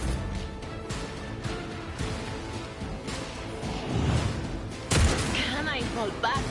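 Video game battle gunfire crackles in scattered bursts and impacts, fairly faint and mixed with other game sounds, with a louder crash-like hit near the end.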